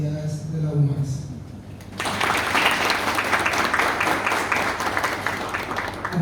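Applause for university authorities at an academic event breaks out after someone speaking into a microphone and continues as steady, dense clapping from a large crowd.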